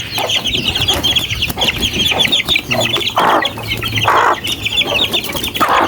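Growing chicks in a coop peep and cluck close by in repeated short bursts, joined by fuller clucking from older fowl, continuing without pause.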